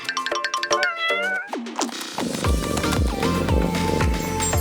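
A cat gives a quick run of short, high meows up close, then drawn-out, wavering cries as other clattering sounds start behind it.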